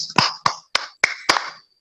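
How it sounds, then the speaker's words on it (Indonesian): Five sharp, evenly spaced claps ring out close and clear in a classroom, applause for students, with no talking over them. "Kita beri tepuk tangan untuk Vinsa dan Yunita."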